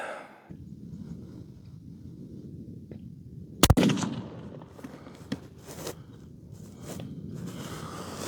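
A .30-06 Winchester Model 70 rifle fires a single loud, sharp shot outdoors. Rustling and low handling noise come before and after.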